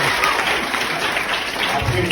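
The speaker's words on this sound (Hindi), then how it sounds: "आपके डांस के लिए ताली बजी" Audience applause for a dance at a school stage show fills the moment, a dense, steady clapping from a crowd that stays loud for the whole stretch.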